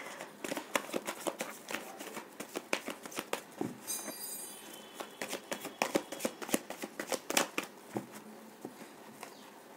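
Tarot cards shuffled by hand in a dense run of quick riffling flicks and soft slaps, close and moderately quiet, with a brief bright fluttering burst partway through and no talking.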